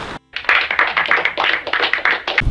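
Close hand clapping in a quick, steady run of about a dozen claps after a brief pause, loud and alone without any talk.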